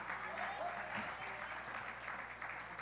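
Applause from a church congregation, steady dense clapping sustained evenly throughout at moderate, slightly distant level.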